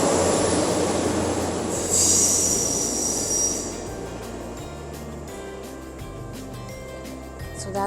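A train departs Bath Spa station in the UK, where the platform is curved, and its wheels give a loud high squeal for a couple of seconds. A steady rumble of railcars continues close by with light rhythmic clatter. No voices are heard.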